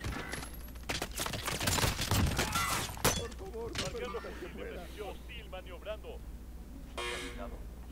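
Clattering gunfire in Call of Duty Warzone, a cluster of loud shots early on that thins into scattered bursts, heard beneath and between people talking.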